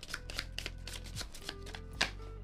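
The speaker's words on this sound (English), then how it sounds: "just trying to make sure I get a good shuffle here" A deck of cards is shuffled by hand during a solo playthrough of the board game Welcome To..., giving a quick, close run of soft riffling flutters and light taps.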